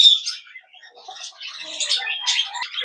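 A small pet Pacific parrotlet, blue opaline pale fallow, recovering from illness, chirps and twitters in quick, high bursts, fairly close and soft, with no other sounds around it.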